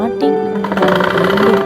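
A sewing machine runs steadily, stitching along a nighty's front neckline in a continuous rapid whirring chatter, loud and close, while someone talks over it.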